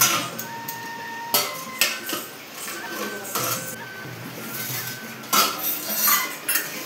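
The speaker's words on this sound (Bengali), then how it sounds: "তারপরে আমি ঢাকা চাপা দিয়ে দেবো।" Metal lid handled and set onto a cooking pot of fish curry, giving several sharp clanks and clattering knocks at irregular intervals, close and fairly loud against a steady kitchen background.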